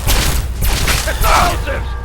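Gunfire in the Fallout 3 video game: several loud, sharp blasts and thumps at irregular intervals, close and heavy, with some mechanical clatter between them.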